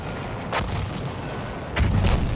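Artillery guns firing in Battlefield 1, two heavy booming shots about a second apart over a constant rumble of battle noise.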